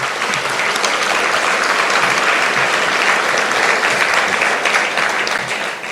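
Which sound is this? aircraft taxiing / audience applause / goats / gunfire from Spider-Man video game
audience applause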